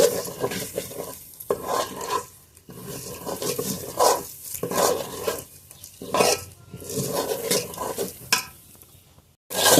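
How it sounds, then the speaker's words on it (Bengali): Lentils (dal) fried in a pan for khichuri, stirred with a utensil: loud, repeated scraping strokes against the pan over a continuous sizzle, with no talking. "রান্নার ডালটা এখন ভেজে নেব"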